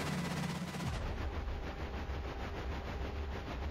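Rapid, sustained gunfire from armored units in the war game Cepheus Protocol, a dense steady rattle of shots that runs unbroken at close range and loud level, with no talk over it.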